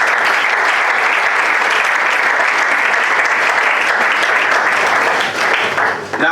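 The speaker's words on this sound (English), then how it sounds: "very big round of applause" Loud, sustained applause from the audience at the final of the Togo National Debate Championships, dense clapping filling the whole stretch before it thins slightly at the end.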